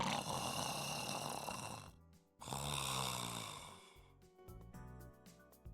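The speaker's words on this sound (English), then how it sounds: "I heard our father snoring coming from the back room." A father snoring in a back room in a visual novel game: two long, loud snore breaths with a pause between them, followed by quieter tones.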